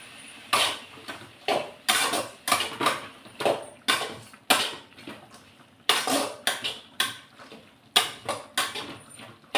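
A metal spatula scrapes and taps through cabbage stir-fry in a pan, spreading it out in a steady run of sharp clinks and scrapes, close and clear with no talking.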